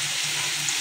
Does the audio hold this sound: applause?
no